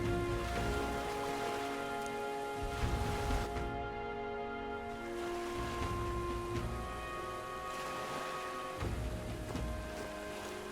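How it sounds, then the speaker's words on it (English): Rain falls in the video game Metaphor: ReFantazio, a continuous wash of patter under sustained musical tones, fairly even in loudness, with no speech. "This bloody rain."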